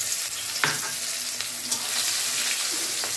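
Garlic and onion frying in hot oil with whole cardamom, cloves and cinnamon, giving a steady dense sizzle with a few faint utensil clicks; close, with no voices.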